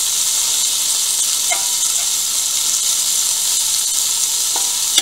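Chicken breast pieces fry in a pan with a continuous close sizzle and hiss, with a few faint clicks and taps now and then.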